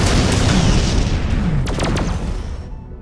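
Ship weapons fire in an Endless Space 2 space battle, a loud, dense booming rumble with a few sharp bright zaps near the middle, fading slightly toward the end.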